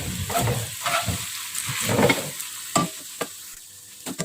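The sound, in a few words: stirring Johor laksa ingredients in a pan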